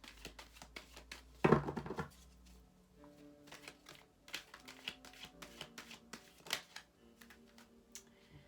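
Tarot cards being shuffled and drawn at close range: soft taps and flicks, a brief rapid riffle burst, then scattered clicks of cards being laid down.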